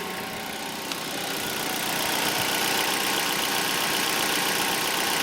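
A 2006 Mazda 5 engine with newly fitted drive belts idles steadily, a smooth continuous hum that grows slightly louder after the first second, with no voices.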